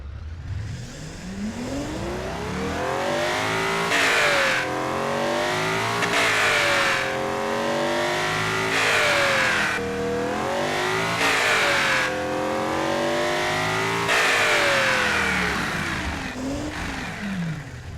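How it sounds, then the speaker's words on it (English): A car engine revs hard and drops back repeatedly, rising and falling pitch sweeps in a steady cycle, loud and close with no talking. "When you go high with the RPM and then release your foot of the accelerator, the engine will sound amazing."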